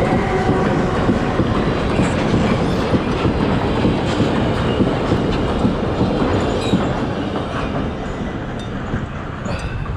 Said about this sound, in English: There's probably only like 2 trains a day here.